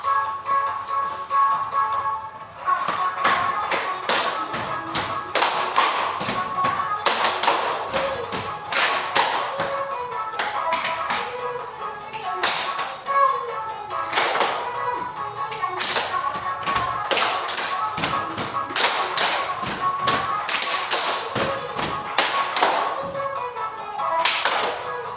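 A group of children taps their waists and claps their hands in an ice-breaking game, crisp rhythmic claps and pats in repeated bursts, close and loud, with occasional voices.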